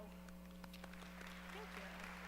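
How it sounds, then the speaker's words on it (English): Faint audience applause at a college nursing pinning ceremony, a thin steady patter of clapping sitting low under a constant electrical hum, heard from a distance. "please take this applause as our biggest thank you"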